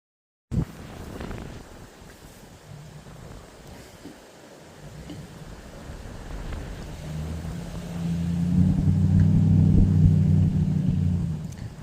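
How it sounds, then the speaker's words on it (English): A vehicle on a dirt trail road near Deep Creek hot springs, a low engine rumble that starts faint, slowly builds and grows loudest toward the end as it passes close. "That was like the 5th vehicle I've seen come through here since I've been sitting here."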